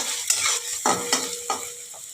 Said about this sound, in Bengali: পেঁয়াজটাকে একটু ভাজতে হবে ভালো করে।